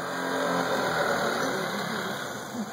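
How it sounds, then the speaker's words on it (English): A small orange moped's engine revs steadily nearby in a garden in Rome, a continuous mid-pitched motor drone that swells and eases slightly. "It's a moped in there."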